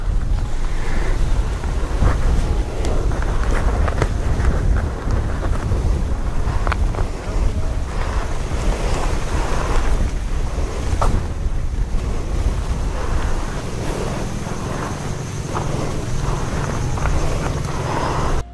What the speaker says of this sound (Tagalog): ang ganda ng dagat